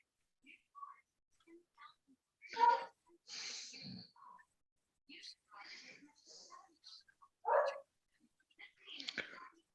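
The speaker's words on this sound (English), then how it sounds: "I hear a pupper dog" A dog barks in short, faint bursts scattered through otherwise quiet moments, mixed with soft breathy voice sounds, rather distant and intermittent.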